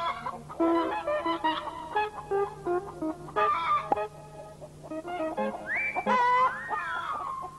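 Chickens in a garden cluck and squawk in busy, overlapping bursts, with a steady low hum beneath and a rising whistle-like call near the end.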